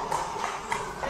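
Horse hooves clip-clopping at a racing event in Australia, a busy steady patter of hoofbeats mixed with crowd noise and voices.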